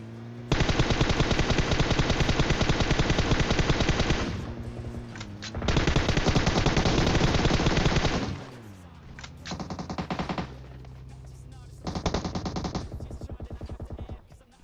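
Loud automatic gunfire in PUBG Mobile comes in long sustained bursts, then shorter strings of rapid shots, all close and dominant with no talking.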